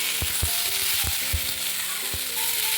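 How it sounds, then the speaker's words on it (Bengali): Previously fried potatoes stirred back into a hot pan with ridge gourd, a steady close sizzle broken by several sharp scraping stir strokes of a spatula, no voices. "এখন আমি দিয়ে দিচ্ছি ভেজে রাখা আলু, দিয়ে এবার ভালো করে একসঙ্গে আবারও নাড়াচাড়া করে নিচ্ছি।"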